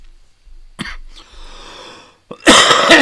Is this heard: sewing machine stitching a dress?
no